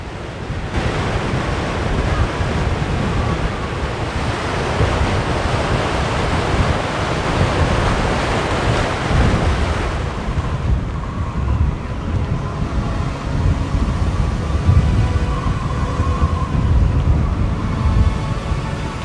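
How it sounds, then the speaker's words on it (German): Strong wind over the Kattegat sea roars and buffets around a sailboat in a continuous rush, heavy and gusty for the first half, then easing to a lower, steadier moan. "Draußen heult der Wind ums Kattegat."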